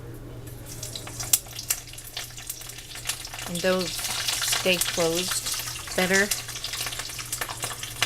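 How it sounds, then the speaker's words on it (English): A rolled corn tortilla taquito fries in oil in a frying pan, a steady close sizzle and crackle running throughout while someone speaks briefly over it. "And I'm going to put it in the frying pan."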